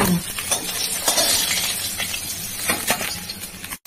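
Fish pieces, just flipped, fry in hot oil in a pan, giving a steady, close, broadband sizzle with a few faint clinks throughout.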